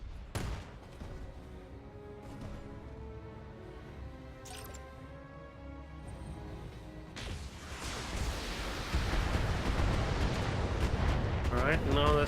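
Mech weapons fire in a BattleTech battle, a steady rumble of explosions and gunfire that swells into a louder, denser barrage toward the end, with someone talking over it.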